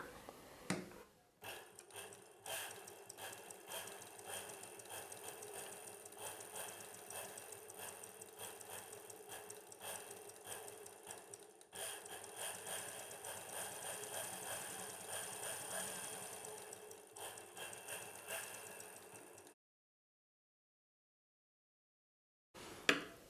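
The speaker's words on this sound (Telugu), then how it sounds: "ఈ మార్కింగ్ పై వైపునే కుట్టు వేసుకోవాలి" A tailoring sewing machine runs steadily, stitching along a marked line on cloth with a continuous rapid mechanical clatter, briefly pausing near the start and mid-run, then stopping into silence before a short final knock.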